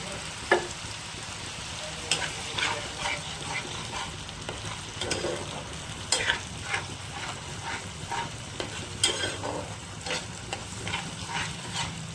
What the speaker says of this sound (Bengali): তেঁতুলের জলটা দিয়ে দিয়েছি, একটু ভালোভাবে ফুটতে থাক।